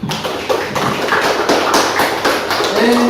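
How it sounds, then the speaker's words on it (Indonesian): A classroom group claps for the first group after its presentation, a steady patter of hand claps from several people, fairly close, with a voice briefly heard over it. "kita berikan aplaus dulu untuk kelompok 1"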